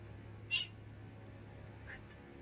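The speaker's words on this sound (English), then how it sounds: "This is a very loud cat." A house cat lets out a single sharp, loud meow near the microphone, followed a moment later by a fainter second call over quiet room hum.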